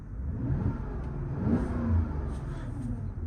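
A 2006 Porsche Cayenne Turbo Tiptronic S engine and exhaust revving, its note rising and falling in a couple of moderate swells, heard fairly faint from inside the SUV.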